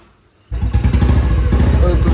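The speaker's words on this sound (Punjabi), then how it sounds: "ਦੁਬਾਰਾ ਸਟਾਰਟ ਕਰਕੇ ਜਿਹੜਾ ਬੋਲਟ ਹੈ ਪਹਿਲੀ ਕਿੱਕ 'ਤੇ ਸਟਾਰਟ ਹੋ ਗਿਆ" A Bullet motorcycle engine catches on the first kick after stalling from overheating, then settles into a loud, close, thumping idle.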